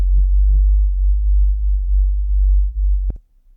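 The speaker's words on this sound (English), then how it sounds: "The sub is also really simple. It's made up of this, it's really just a sine wave" A steady, deep sub-bass sine tone hums continuously and low, ending with a sharp click just before it cuts out.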